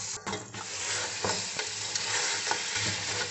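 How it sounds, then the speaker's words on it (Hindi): Mutton pieces frying in hot oil with garlic, stirred steadily so the sizzle runs continuously with repeated scraping strokes close by, no voices. "अभी मैं मटन डालती हूँ।"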